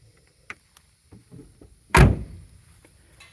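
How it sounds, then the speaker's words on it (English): A single solid car door slam on a 1967 Oldsmobile 98 Coupe, close and sharp, after a few faint clicks and rustles. "Doors shut nice."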